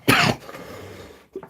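A single loud, rough cough bursts out close by, trailing into a rasp and followed by a short throat sound.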